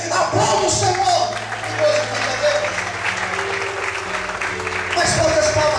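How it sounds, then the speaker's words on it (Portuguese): A church congregation claps steadily together in praise, a loud continuous wash of applause over a sustained musical backing, with voices briefly rising over it at the start and end. "Quem acredita nisso, levanta a mão para o céu, aplauda o Senhor."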